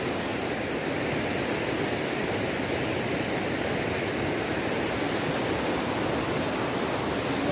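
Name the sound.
river flowing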